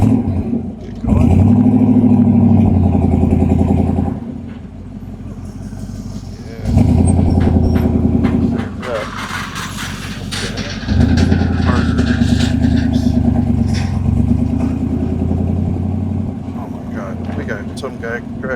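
A 1968 Chevrolet Camaro engine revs hard and pulls through successive gears, each loud climb in pitch dropping at the shift before rising again, heard up close from inside the car over about eighteen seconds.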